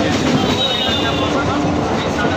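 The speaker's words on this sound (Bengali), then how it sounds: "সো ফাইনালি আমরা ট্রেনে উঠেছি।" Passenger train in motion with people on board, a steady loud rumble of wheels and carriage running throughout, with voices talking faintly underneath.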